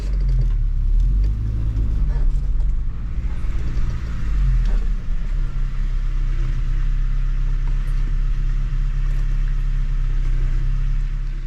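A Geo Tracker on a test drive after a wheel alignment, its engine and road noise a loud, steady low rumble heard from inside the cabin throughout.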